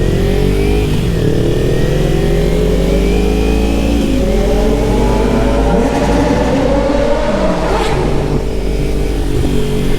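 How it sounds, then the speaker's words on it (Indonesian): A motorcycle engine revs loudly and continuously nearby, its pitch climbing and falling with repeated throttle blips throughout. "lu ngegas di sampingnya si Ade"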